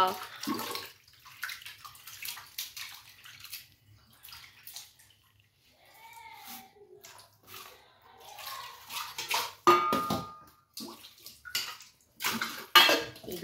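Small pabda fish are washed roughly in a basin of water, with irregular splashing, sloshing and clinking of a vessel, quiet gaps between bursts and a voice talking at times.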